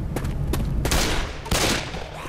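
Dual pistols firing in a Left 4 Dead 2 custom map, a handful of sharp, quick shots in irregular succession, close and loud over game noise.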